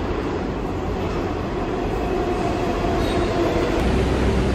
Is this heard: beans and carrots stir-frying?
no